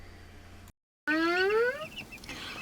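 Many baby chicks peep in a dense, high-pitched chorus of overlapping chirps, close by and loud after a brief cut of silence, from a brood of 110 chicks.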